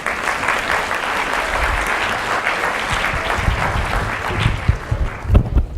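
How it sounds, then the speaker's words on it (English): Sustained audience applause fills a keynote hall at a leadership event, steady and dense throughout, swelling slightly near the end. "let's all give a warm round of applause for Maylee Tom, board member"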